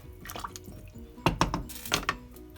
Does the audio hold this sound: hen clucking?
no